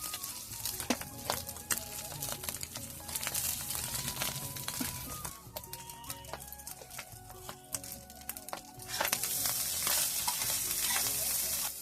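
Onions and boiled rice stir-fried in refined oil, a steady close sizzle with scraping and stirring clatter throughout, growing louder and more intense near the end.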